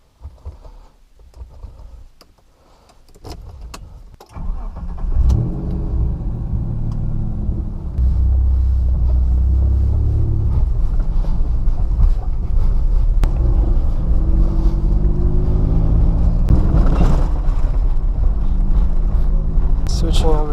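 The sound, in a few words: 1991 Mitsubishi Pajero SWB driving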